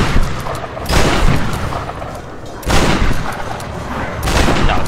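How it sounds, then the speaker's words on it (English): Loud, repeated booming blasts of a shotgun in the Tomb Raider video game, three heavy bursts in quick succession with a rumbling, crackling decay between them. "No, this shotgun's doing awful."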